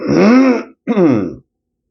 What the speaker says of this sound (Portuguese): Mas é de pigarra.